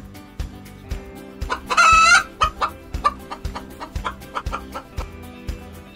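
Hen clucking in a steady, rapid series of short clucks, with a brief crowing-like call near the start, close and clear over a quiet farmyard background.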